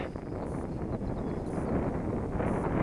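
Steady wind buffeting the microphone at an outdoor RC flying field, a broad continuous rumble with faint whining tones from an RC Viper 50mm model jet passing in the distance.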